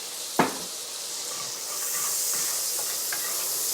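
A small knob of butter with a touch of olive oil sizzles in a pan for carbonara: a soft clink, then a steady, faint hiss that slowly swells.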